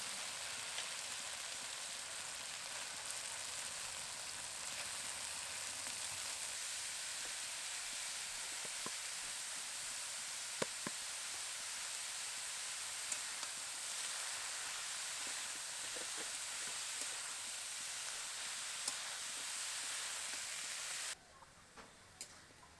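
Spice paste for a cabbage ghonto with katla fish head fries in a pan with a loud, steady sizzle, occasional soft stirring clicks, and cuts off abruptly near the end.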